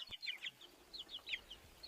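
A farm chicken clucks repeatedly in short, bright bursts at an irregular rhythm, moderately close and fairly soft, with a low thump at the very end and no talking.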